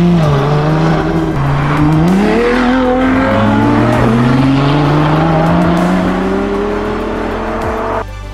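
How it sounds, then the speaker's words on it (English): A hybrid supercar moves off on electric power, then its petrol engine fires up, revving and climbing steadily in pitch, loud and close, with a rising mechanical whine and no voices. "Just listen here as the car moves with the electric power before the petrol engine fires up."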